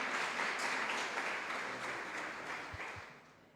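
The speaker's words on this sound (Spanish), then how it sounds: "Un fuerte aplauso para el Padre Héctor" Applause from a congress audience at a national catechetical synodality gathering, a broad wash of clapping that slowly fades toward the end, with a couple of louder thumps near the close.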